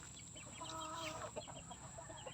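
Several chickens cluck and murmur close by over steady background noise, with one bird's drawn-out call rising briefly in the middle.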